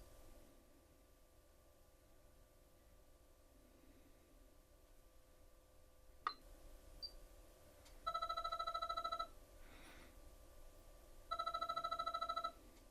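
Two bursts of electronic ringback tone sound through a Pioneer AVH-EX in-dash car receiver's Bluetooth speakerphone, each about a second long and evenly spaced, preceded by a faint click and a short beep over quiet background hiss.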